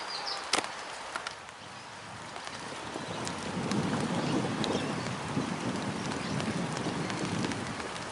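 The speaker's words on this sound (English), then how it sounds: "now it's coming, the rain is coming down" Light rain falling over an outdoor cricket ground, a steady faint hiss with occasional soft ticks and gusts of wind across the microphone, continuous and distant, with no voices.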